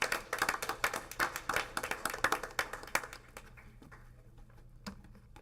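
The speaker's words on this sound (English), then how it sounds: "let's give them a quick round of applause" A short round of applause from a small audience at a school board meeting, quick overlapping claps that stay steady for about three seconds and then thin out to a few scattered last claps.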